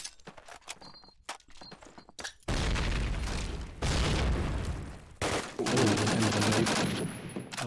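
Grenade blast and gunfire in Call of Duty: United Offensive during a competitive match, with sparse clicks and shots first, then a heavy, sustained burst of loud explosive gunfire and booms filling the rest.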